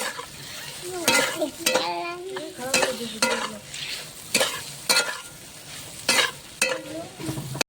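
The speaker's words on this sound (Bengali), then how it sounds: "তো বড়িটা আমার ভাজানো হয়ে গেছে" Lentil dumplings (bori) frying in oil in a pan at home: a soft sizzle broken by repeated sharp scrapes and clatters of a spatula stirring against the pan, close and uneven in rhythm, with no one talking.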